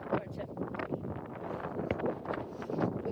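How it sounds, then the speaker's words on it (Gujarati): Wind blows steadily outdoors at a scenic viewpoint near a Buddhist garden, a broad rushing buffeting on the microphone that runs through the whole stretch with no break. "અને પવન તો છે, સારો એવો છે પવન"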